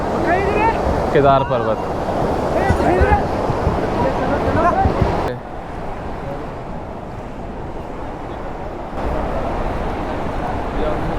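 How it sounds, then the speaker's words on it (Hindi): Mandakini river near Kedarnath rushing steadily as broad, continuous water noise with wind buffeting the microphone, someone speaking over it at first before the flow carries on alone. "ये देखिए, ये है आपकी मंदाकिनी नदी"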